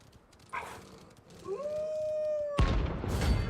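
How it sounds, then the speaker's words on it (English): A pack of dogs howls in the video game Final Fantasy XVI, a rising drawn-out howl joined near the end by a louder burst of overlapping howls and yips, with no talking. "Those are the dogs. It's the pack,"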